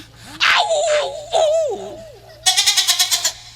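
A wavering, high-pitched goat kid bleat, then a rapid, quivering bleat that pulses several times, fairly close.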